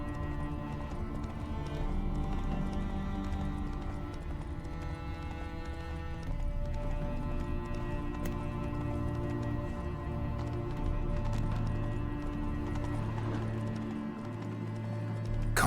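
Roach, Geralt's horse in Witcher 3, clip-clops along steadily with even, continuous hoofbeats under layered game ambience and a musical score.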